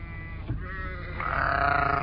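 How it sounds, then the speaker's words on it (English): Texel lambs bleat close by, one wavering, drawn-out call after a short grunt, with low rumbling background noise. "First port to call is the Texel lambs."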